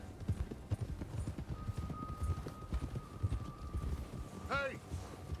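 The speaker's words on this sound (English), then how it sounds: "just riding on the horse for bloody ages" Steady clip-clop of horse hooves at a trotting rhythm in the video game Red Dead Redemption 2, with a horse whinnying near the end and a faint tone running through.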